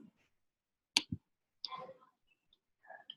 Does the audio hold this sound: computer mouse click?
yes